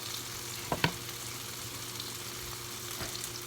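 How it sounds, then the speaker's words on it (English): Tofu fries in a pan with a low, steady sizzle, punctuated early by two brief clanks or taps, faint and close with no talk. "I already got my tofu cooking away here."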